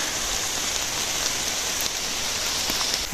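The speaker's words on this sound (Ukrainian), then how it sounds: "Дощ не перестає, тільки більше надходить." Steady rain falls through a forest during a wet mushroom-gathering walk: a dense, even hiss of drops pattering on leaves and ground, close and continuous, with no voices.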